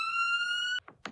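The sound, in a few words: police car siren in a cartoon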